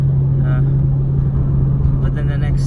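A Nissan Skyline GT-R R34 being driven on a road, its steady engine drone and low rumble loud and close throughout, with a strong constant hum and no pauses.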